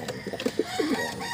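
Soft, low cooing from a white racing pigeon comes in short throaty warbles close by, with a few brief calls repeating quickly against faint background noise.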